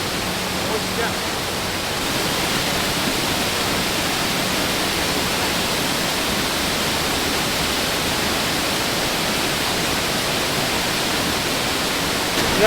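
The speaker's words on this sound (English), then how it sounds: "We've got Cave Creek just plunging off that waterfall." Cave Creek plunges off a waterfall in a limestone gorge, a loud, steady broadband roar of falling water that holds constant throughout, close by and alone.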